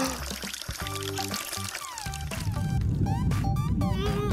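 Water poured from a bottle splashes and gurgles in a close, continuous stream, with rising tonal sweeps as the liquid flows. Faint musical tones sound briefly at the start.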